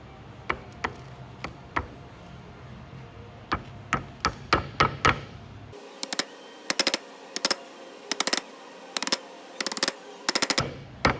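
Domino tenons tapped into the glued slots of a cutting board, a series of sharp wooden knocks in short irregular bursts, close and fairly loud with no talking.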